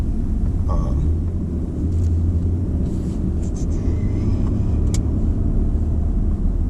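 A Lexus LX600 engine rumbles steadily up close with a coarse, raspy tone, a few faint clicks and brief higher swells over the constant drone.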